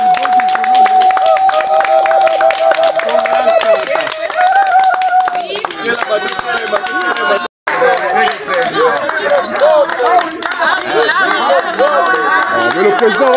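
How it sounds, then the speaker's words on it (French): A crowd claps at a community association gathering. Steady, dense clapping runs throughout under loud voices and singing or chanting, with a brief dropout midway. "Allez, applaudissez."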